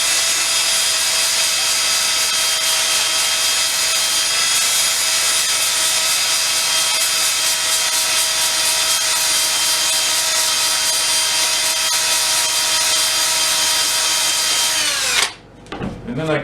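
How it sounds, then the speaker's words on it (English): A red cedar burl spins on a wood lathe while being sanded, a loud steady whine with a constant rubbing hiss that stops abruptly near the end. "So I'll continue with the sanding."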